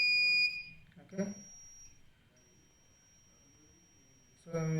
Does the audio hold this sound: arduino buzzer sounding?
yes